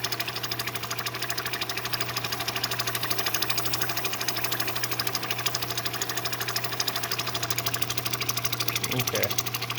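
A lapidary grinding wheel shapes a Montana agate cabochon with a continuous, rapidly pulsing mechanical whir and a low steady hum, loud and close and running throughout. A brief scrape comes near the end.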